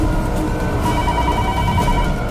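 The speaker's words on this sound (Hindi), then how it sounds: "फोन उठाइए।" A home landline telephone rings with a steady electronic tone at close range. No one speaks.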